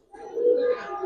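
A single soft, low coo rises and swells briefly from a newly adult Giribaz pigeon, close by and alone with no voices.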